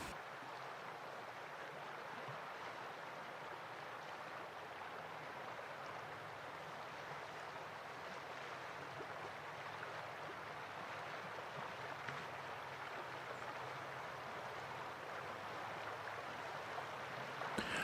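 Steady rushing flow of the Deschutes River running right beside a campsite, a constant broadband wash of water close to the microphone with no voices.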